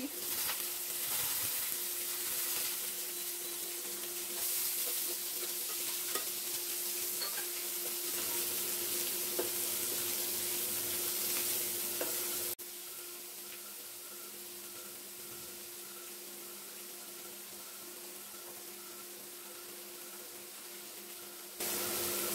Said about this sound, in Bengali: এই রকম ভাবে কুচনো পেঁয়াজ দিয়ে দিচ্ছি